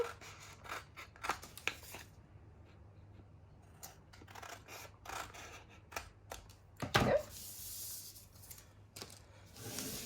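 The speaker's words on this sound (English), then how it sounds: "Whoops, I actually forgot to trim this part off, so let's do that now." Scissors snip paper in a quick series of close, crisp cuts, trimming excess from a handmade paper pouch, with soft rustling handling between strokes.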